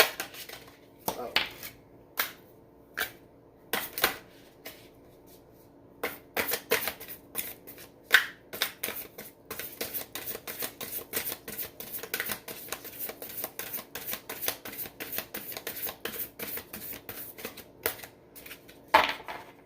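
Tarot cards shuffled by hand at close range: a few scattered snaps and slaps at first, then a long, dense stretch of rapid papery flicks and riffles that keeps going to the end.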